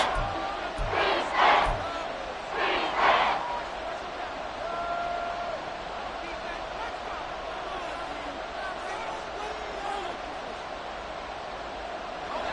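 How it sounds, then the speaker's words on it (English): In an EA Sports football video game, a stadium crowd roars and cheers, a broad, steady wash of noise that swells briefly, heard alongside a commentator's voice. "Crowd on their feet."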